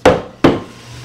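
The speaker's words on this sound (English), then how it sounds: "Hammer that bottom in with the rubber mallet, please." A rubber mallet strikes the bottom of a wooden sofa frame during assembly: two sharp, close blows about a third of a second apart, each decaying quickly into a quiet room.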